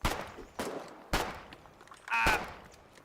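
Gunfire in the video game Foxhole: four sharp separate shots spaced about half a second apart, fairly faint, with a brief metallic ring after the last.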